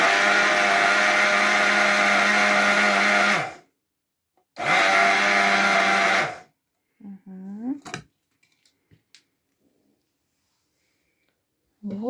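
A Maunfeld MF-521S electric coffee grinder whirs loudly in two bursts of a few seconds each, separated by a short pause, followed by quieter tapping and a voice speaking.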